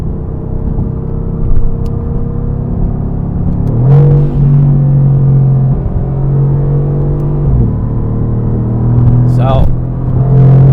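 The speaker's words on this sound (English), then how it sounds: "Hope you enjoyed the little bit of POV driving in the AMG GTR" Mercedes AMG GTR sports car driven on back roads, heard from inside as a loud steady engine drone with deep rumble and shifting pitch as the revs change, with brief talk near the end.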